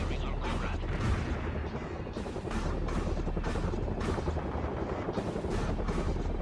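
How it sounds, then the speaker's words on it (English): A helicopter in the war strategy game World in Conflict thumps with steady rotor pulses, mixed into a dense, loud battle din of gunfire and explosions. "We kill the helicopter."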